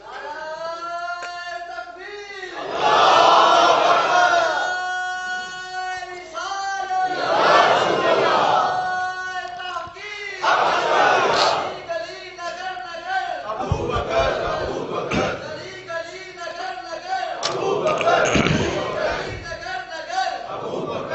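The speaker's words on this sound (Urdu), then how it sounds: "سمیع اللہ چودھری بھی نعرے مار رہے ہیں." A crowd at a religious speech roars out slogans in loud repeated bursts, several waves of massed shouting across the stretch, with a single voice leading between them.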